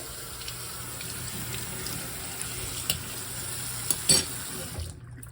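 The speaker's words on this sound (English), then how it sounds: "Let's rinse it." A coffee spoon rinsed under a running tap: a steady, close hiss of water that carries a few light clinks near the end, then cuts off abruptly.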